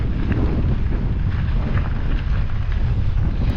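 Strong wind buffeting the microphone on the Great Divide Mountain Bike Route near Pie Town, a constant low roaring rumble with gusty fluctuations and no speech.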